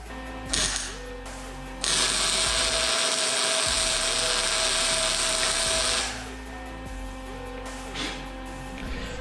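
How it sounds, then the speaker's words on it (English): A welder zaps a quick weld onto a Volts Minibike GTS frame, a loud steady crackling hiss lasting about four seconds between quieter shop noises and brief clicks. "hopefully I can just zap a weld on there real quick"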